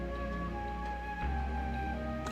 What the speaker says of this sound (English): Man, I'm super into this menu music